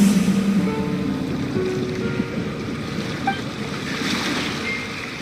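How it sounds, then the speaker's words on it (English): Ocean waves wash and hiss continuously in the Genshin Impact video game, a steady broad surf with a faint wind-like rush and a few soft musical tones over it, no voices. "Go to where you can hear the sound of the waves."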